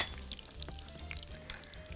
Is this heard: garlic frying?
yes